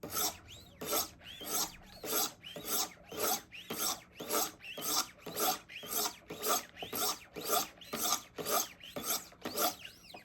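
A knife edge is drawn across abrasive stones on a Wicked Edge sharpening system, a steady run of about twenty close, dry rasping strokes in a regular back-and-forth rhythm with no talk.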